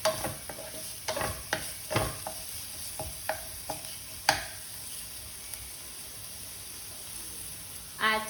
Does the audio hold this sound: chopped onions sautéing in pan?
yes